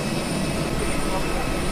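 Steady, loud roar of an airplane jet engine at Mumbai airport, a continuous broadband rumble filling the whole stretch with no pause.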